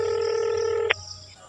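A steady electronic mobile phone dialing tone holds for under a second and then cuts off, followed by a brief quiet hum.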